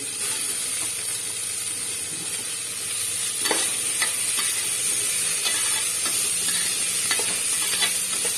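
Cabbage stir-frying in a pan for mixed vegetable rice, with steady close sizzling and repeated scraping strokes of a spatula against the pan.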